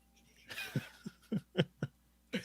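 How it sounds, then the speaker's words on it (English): A person coughs in short repeated bursts, about six close, fairly quiet hacks in an uneven rhythm following a faint breathy sound, in a quiet podcast room. "Was the cough real?"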